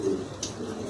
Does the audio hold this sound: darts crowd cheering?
no